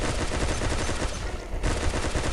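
Waterman's Rifle water gun in Pixel Gun 3D fires continuously in a dense, rapid burst, with a brief dip before the shots resume at full loudness.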